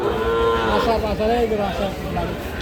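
Cattle at a market in Bangladesh where young bulls and heifers are sold: a cow gives one long, loud, close moo lasting most of the moment, with market chatter and crowd noise beneath.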